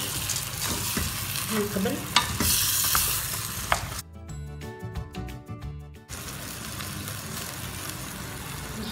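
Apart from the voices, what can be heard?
lentils added to a pot and stirred, sizzling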